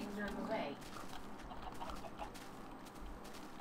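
Minecraft chickens cluck in a game pen, with a brief burst of clucking near the start before softer, scattered bird noises continue over a steady background, while people talk.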